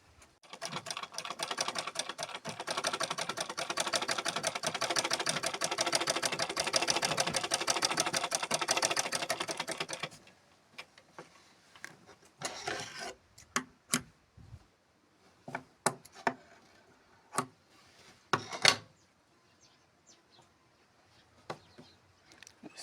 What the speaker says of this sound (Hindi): यहाँ से सिलना शुरू कीजिए और यहाँ पे निकालिएगा